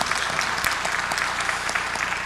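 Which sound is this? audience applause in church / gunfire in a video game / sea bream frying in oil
audience applause in church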